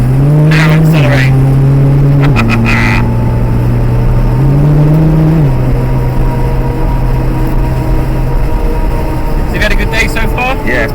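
A Nissan GT-R engine drones loudly and steadily inside the car on the Castle Combe race circuit, its pitch stepping through gear changes as it accelerates, with people talking over it.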